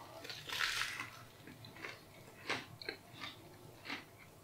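Someone bites into a Warburton's muffin with egg and cheap Asda bacon, a loud crunching bite followed by several softer, moist chewing sounds spaced irregularly, close and intimate.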